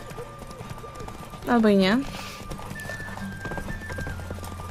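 Roach, the horse in The Witcher 3: Hearts of Stone, moves with rhythmic hoofbeats under game music and gives a loud, clear whinny partway through. Someone speaks briefly.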